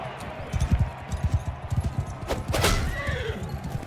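A horse in the video game Mount & Blade 2 Bannerlord whinnies loudly mid-clip with a rising then falling cry, preceded by rhythmic hoof clops and rumbling movement.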